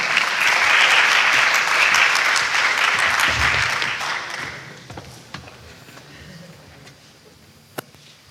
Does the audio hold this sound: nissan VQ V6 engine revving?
no